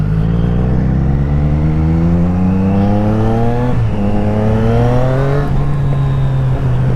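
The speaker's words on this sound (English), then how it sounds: "This thing backfires and pops like nobody's business." A 2024 Triumph Street Triple RS motorcycle engine revs loudly and close, its pitch climbing steadily, dipping briefly, then rising again into a sustained drone, with no talk over it.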